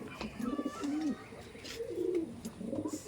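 A Pakistani teddy pigeon cooing close by, several soft rolling coos in a loose repeating rhythm, quiet and alone with faint background hiss.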